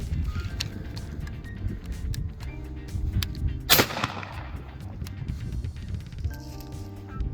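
A single loud gunshot cracks out during a dog's bird-retrieving training, standing out sharply over outdoor background noise and a voice talking to the dog.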